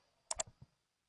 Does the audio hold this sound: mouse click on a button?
yes